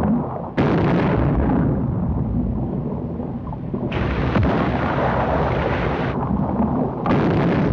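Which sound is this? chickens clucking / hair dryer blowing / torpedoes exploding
torpedoes exploding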